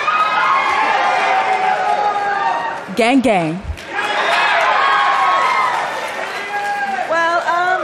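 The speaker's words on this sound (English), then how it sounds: "They're cheering like she won the award." Streamy Awards audience cheering and chattering loudly throughout, with a brief dip mid-clip while a voice speaks over the crowd, then the roar returns.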